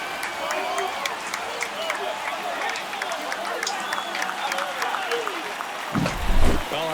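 A home baseball crowd roars and applauds after a home run to right field during an MLB game, a dense wash of cheering and clapping throughout with a brief louder burst near the end, under a commentator's voice.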